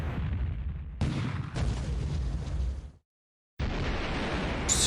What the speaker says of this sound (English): Shooting it with AA machine guns.